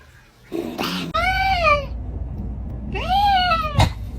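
A kitten meows twice, two clear, rising-then-falling cries separated by a short pause, close and loud, with some household rustling and low background noise between calls.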